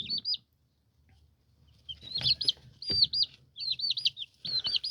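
Eleven-day-old chicks kept indoors in a room give bright, repeated high peeping calls in quick bursts, with soft rustling and scratching between them, close and clear.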